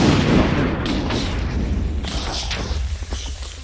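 Explosions in Minecraft, likely TNT blasting through blocks, come as a loud rumbling, crackling roar with overlapping booms that slowly fade.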